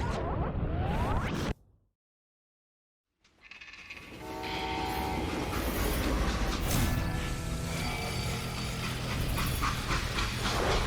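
A freight train in the western game Call of Juarez Gunslinger: a loud rumbling run with a brief full dropout, then rolling rail noise and tonal whistle-like hums building steadily and continuing to the end.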